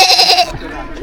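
A farm goat bleats in a short, wavering cry that fades out after about half a second, leaving quiet background rustle.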